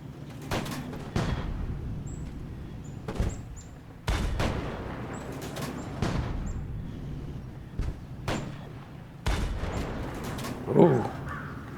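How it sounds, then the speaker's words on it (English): Heavy cannon fire in a tank video game: a series of loud, sharp booms spaced a second or two apart, each with a short decaying rumble over a quiet background. "somebody's firing some big guns"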